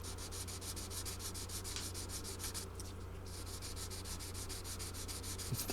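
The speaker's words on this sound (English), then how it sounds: "600 grit on a sanding block" 600 grit sandpaper on a sanding block working a 1958 Martin guitar headstock, a soft steady rhythmic scrubbing of quick back-and-forth strokes, close but quiet, with no talk.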